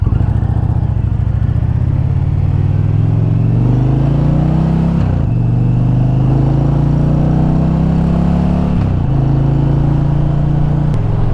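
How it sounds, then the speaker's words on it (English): A 2009 Kawasaki Vulcan 900 Custom motorcycle being ridden, a loud, constant low engine drone that rises through the gears with brief dips at shifts, heavy wind rumble throughout. "I like riding the old Vulcan 900."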